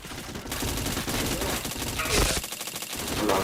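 Rapid bursts of automatic gunfire ring out continuously in a shooting video game during rainy-weather team play, loud and dense throughout.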